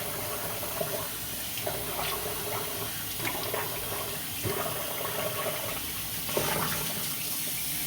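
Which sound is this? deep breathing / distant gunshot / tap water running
tap water running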